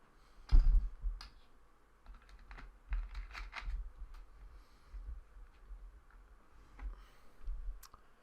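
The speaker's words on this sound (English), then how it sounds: "I'm gonna open it up by double clicking." A computer mouse clicks in a quiet room, with a few soft double clicks and light taps scattered across the stretch.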